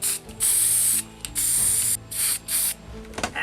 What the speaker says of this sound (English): I'm going to take them downstairs and put the first coat of primer on them.